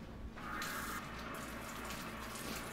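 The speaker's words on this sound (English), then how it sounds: "then just add some cold water to this" Cold water runs from a tap into an empty plastic container held over a sink, a steady close splashing stream that begins abruptly and keeps flowing without pause, with no talk.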